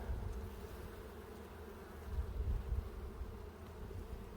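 Honey bees buzz on a hive frame during a queen-breeding inspection, a dense, continuous drone close by that swells briefly midway, with no voices.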